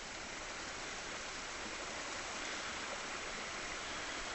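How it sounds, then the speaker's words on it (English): A small river flowing steadily, a dense even rush of water filling the whole stretch without pause, close and fairly loud. "Now this is a little river that nobody ever bothers about."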